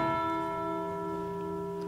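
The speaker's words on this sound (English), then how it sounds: "I'll leave you to enjoy the bells." A church bell in a Surrey village astride the A25 sounds one resonant, humming stroke that slowly fades, ringing out clearly with no talk over it.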